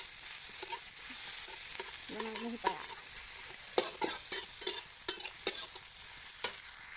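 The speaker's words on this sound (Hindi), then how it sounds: "मेरे प्याज थोड़ा थोड़ा तेल छोड़ रहा है, ब्राउन होने जा रही है।" Onions browning in oil in a home kitchen pan, a soft continuous sizzle with a run of stirring scrapes and clicks toward the end, no talking.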